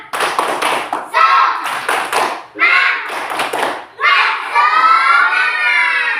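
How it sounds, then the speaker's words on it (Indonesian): A classroom of students performs a rhythmic group clapping chant, bursts of loud, patterned claps alternating with children's chanted voices in unison, close and energetic throughout. "Sebelum kita membacakan ke depan per kelompok, Ibu mau tepuk semangat."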